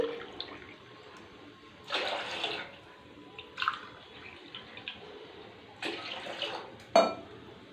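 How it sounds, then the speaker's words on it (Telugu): Water from a glass is poured into a cooking pot holding milk for sago vermicelli jaggery payasam. It comes as several short, quiet splashing pours with pauses between them, close by and with no talk. "నేను ఈ గ్లాస్తో 2 గ్లాసులు వాటర్ తీసుకుంటానండి"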